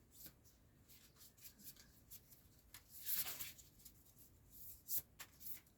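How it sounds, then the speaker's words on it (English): A deck of Mystical Shaman Oracle cards is shuffled by hand, producing quiet, intermittent papery rustles and soft snaps that come in scattered bursts, with one louder flurry in the middle and another near the end. "They are shuffling."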